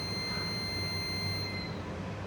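An industrial sheet-feeding machine's start buzzer gives a steady high-pitched electronic tone, cutting off shortly before the end, over a constant low machinery hum.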